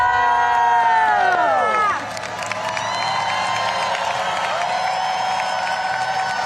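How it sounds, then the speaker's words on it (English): A large outdoor crowd at the Rose Parade cheers and shouts loudly, with clapping and whoops; the roar swells at first, then settles into a continuous crowd murmur. "Come on, guys, let's cheer them on!"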